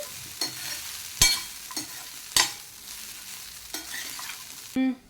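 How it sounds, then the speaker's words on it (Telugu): Sweet corn fried rice with spices being stir-fried in a pan: a steady low sizzle broken by several sharp scrapes and clatters of the spatula tossing the rice, close and alone with no talking. "ఈ మసాలాలన్నీ రైస్కి కూడా చక్కగా పట్టేంత వరకు ఈవెన్గా ఫ్రై చేసుకోవాలి"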